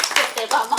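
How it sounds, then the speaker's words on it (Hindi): Brief burst of audience clapping at a Mahabharata quiz, a short cluster of hand claps lasting under a second. "तालियां बजाई जाए"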